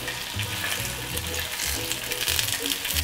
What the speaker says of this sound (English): we're gonna start placing our Tteokbokki skewers in the pan like so.